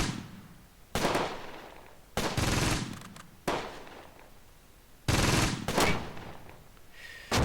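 Gunfire pours into an enemy building in Close Combat, with about five loud, separate bursts of rattling shots, each cutting off sharply and followed by a fading tail.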